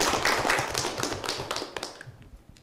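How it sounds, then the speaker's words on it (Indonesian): A classroom of students claps for a classmate after her talk, a dense burst of hand claps that thins out and fades over a couple of seconds. "tepuk tangan dulu untuk Chelsea"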